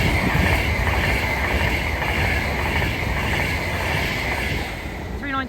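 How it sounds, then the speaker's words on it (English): An Avanti West Coast Pendolino class 390 train rushes through a railway station, a loud, steady roar of wheels and rolling stock close by throughout, with a faint squeal at the end. "the next train to make an appearance is going to be an Avanti West Coast Pendolino"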